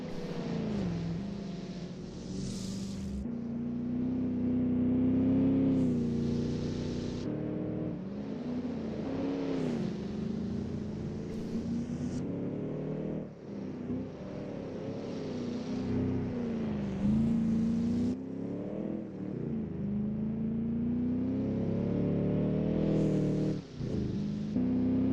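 A 1930s racing car engine drones and revs on the 1933 Eläintarhanajot street circuit in Helsinki, a sustained buzzing note that rises and falls in pitch as it accelerates, steady and moderately loud for the whole stretch with no voices.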